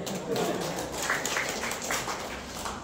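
An audience at a Tamil comedy talk claps in a loose, uneven patter of moderate loudness while voices carry on over it.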